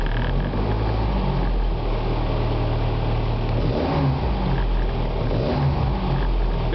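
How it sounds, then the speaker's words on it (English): An Isuzu Holden Rodeo engine with a newly fitted alternator revs up steadily, its rising and falling engine tone close and continuous through the clip, with no talking over it. "We'll increase the revs."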